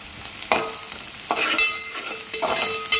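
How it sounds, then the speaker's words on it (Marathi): Onion-tomato masala with kasuri methi frying in a pan, a soft steady sizzle punctuated by three distinct scraping stirs spaced about a second apart, close up with no voices. "थोडं हलवून घेऊया"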